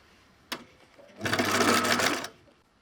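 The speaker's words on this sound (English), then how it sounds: "now it is time to sew around the whole thing to make it lay nicer" A sewing machine runs in one steady burst of about a second, stitching around the edge of a cosplay jacket for Attack on Titan, preceded by a single sharp click; close and fairly loud, with no talking.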